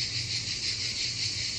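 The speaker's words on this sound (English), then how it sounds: "I don't know if you can hear all the crickets." Crickets chirp outdoors in the Provence countryside, a dense, steady, high-pitched trill that continues evenly throughout with a faint low hum underneath and no talking.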